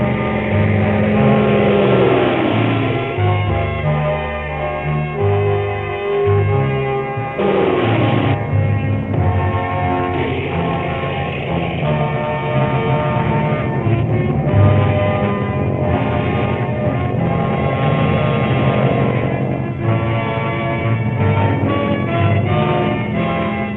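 Piston engines of a B-25 Mitchell bomber roaring in a loud, continuous, dense drone that holds steady throughout, close and full with no talk.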